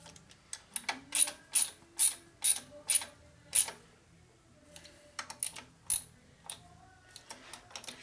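A ratchet works on bolts of a Harley Evo chopper, giving a series of sharp clicking ratchet strokes in quick rhythmic groups, close and fairly quiet, with pauses between sets.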